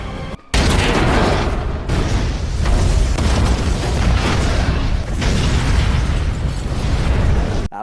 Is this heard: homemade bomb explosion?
yes